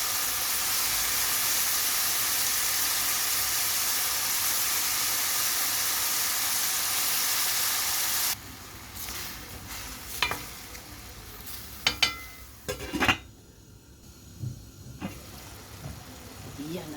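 Mushrooms sizzle loudly in a hot pan as a steady dense hiss, which then drops to a quieter fry punctuated by clattering stirs and scrapes of a utensil, with occasional talk.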